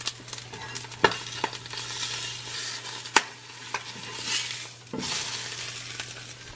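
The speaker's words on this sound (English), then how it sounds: "Can I flip an egg with one hand? Without holding the frying pan." An egg fries in a frying pan with a steady sizzle hissing throughout, broken by a few sharp clinks of a utensil against the pan, close and moderately loud.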